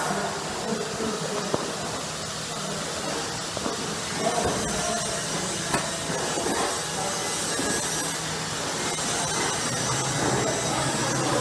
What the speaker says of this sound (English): So I'm going to go ahead and lay down a bead here.